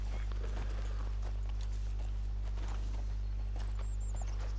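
Horse hooves clip-clop in Red Dead Redemption 2, a steady muffled walking rhythm under a loud constant low hum, with faint game ambience and a brief high whistling tone near the end.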